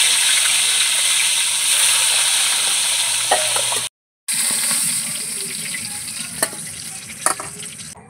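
Hilsa fish heads sizzle steadily in hot oil, a dense continuous crackle with a brief break midway and a few sharp utensil clinks near the end, close and fairly loud with no talking.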